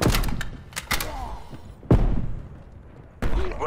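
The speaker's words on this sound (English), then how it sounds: "These gas mines are so OP." A gas mine detonates in Call of Duty Black Ops Cold War on the Nuketown 84 map, several dull thumps and bursts in close succession amid game noise, with a heavier thud midway and another burst near the end.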